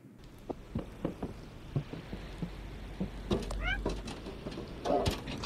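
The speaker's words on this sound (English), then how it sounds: "Oh, I forgot I can meow." A cat meows a few times in the video game Stray, short rising cries heard alongside soft footsteps, light taps and ambient game sounds, with no talking.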